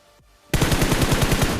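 Rapid automatic gunfire from a shooting video game bursts in after a brief quiet moment, a loud, steady stream of evenly spaced shots continuing without a pause.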